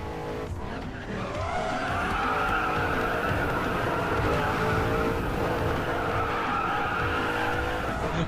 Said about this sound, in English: I think this is an ECU3 LaFerrari.